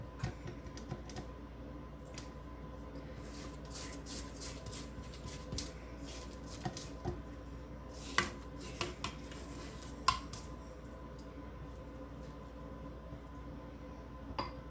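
Spatula scraping down dairy-free lemon cranberry cake batter in a mixing bowl, a steady low scraping texture broken by a few sharp clicks and taps against the bowl, close and fairly quiet, with no talking.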